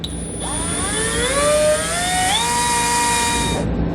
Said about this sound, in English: I'm going to start a hole in the frame using a 5/16 nut driver.